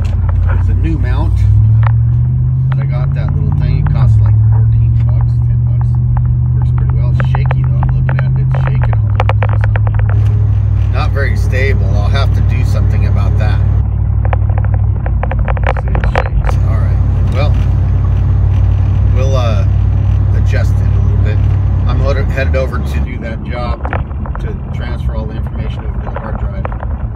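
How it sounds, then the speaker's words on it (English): Interior of a moving vehicle, a loud low engine and road rumble with a hum that steps down in pitch a few times, while someone talks steadily over it. "Here we are in the new vehicle."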